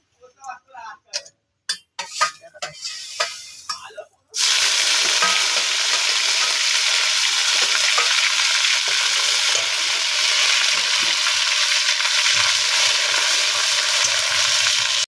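Ginger and cumin dropped into hot oil with bay leaf and five-spice, setting off a loud, continuous sizzle that lasts to the end after a few seconds of talking.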